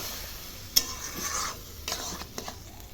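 Lentils mixed with spices being stirred in a pan, with a soft sizzle under repeated scraping strokes and a sharp clink of the spoon against the metal, heard up close.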